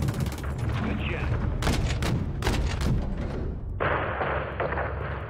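Called-in artillery strike in Call of Duty: Modern Warfare III, a dense run of loud, sharp blasts and crackling impacts over a rumbling battlefield bed, followed by a steady hissing roar as the barrage continues.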